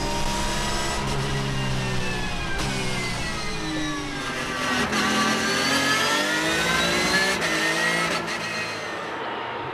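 Race cars, Ferraris and Porsches, accelerating off the line at the green flag of a race at Val de Vienne, a loud continuous roar of many engines revving and rising in pitch, with no talk.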